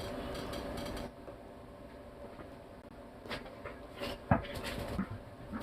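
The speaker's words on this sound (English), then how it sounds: "Silly ass damn little dog." A small dog whimpers faintly in short, high whines against a steady low background hum, with a few brief louder yelps near the end.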